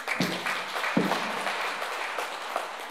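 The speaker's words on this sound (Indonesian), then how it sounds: "Tepuk tangan." An audience at an event in Yogyakarta claps, sharp scattered hand claps over a moderate, fairly even applause that continues for a few seconds.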